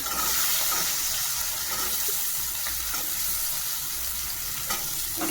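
Potatoes drop into a hot pan of oil just used for frying fish, sizzling and crackling steadily with occasional stirring clinks and no talk.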